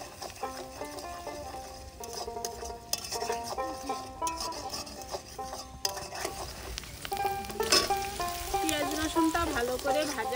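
Chopped garlic, onion and slit green chillies frying together in a pan, with a soft continuous sizzle, occasional stirring scrapes and a faint tonal hum, close and moderate in level.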